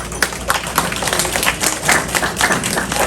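A small group at a grade 1 and 2 school orientation claps to welcome the school social worker; close, uneven hand claps with distinct individual hits over a few seconds.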